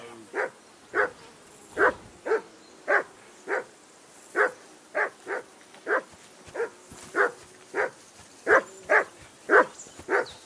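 Dog barking in the video game Kingdom Come Deliverance 2, a steady run of about seventeen clear, evenly spaced barks, fairly close and loud, with no talk over them.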